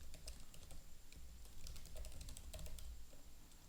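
Typing HTML code on a computer keyboard, a steady stream of soft, quick key clicks with a few louder taps, continuous and close throughout.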